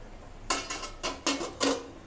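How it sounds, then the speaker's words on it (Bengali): A lid is lifted off a pot of simmering boiled egg vindaloo, giving four or five short metallic clatters and scrapes in quick succession, close and fairly loud against a quiet kitchen background. "3 মিনিট বাদে ঢাকাটা তুলে নিচ্ছি"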